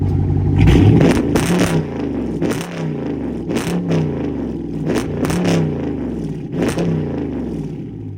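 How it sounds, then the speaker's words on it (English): Dodge Charger RT with an extremely loud aftermarket exhaust, revved repeatedly while parked: sharp, loud bursts rising and falling in quick succession over a deep, rumbling idle. "I'm gonna give y'all some revs too"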